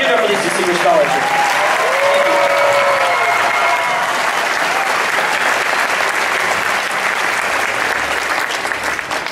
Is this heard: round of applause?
yes